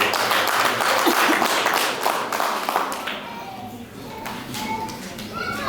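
Applause from a crowd at a wedding celebration, moderately loud at first and then thinning out, with scattered voices and chatter underneath.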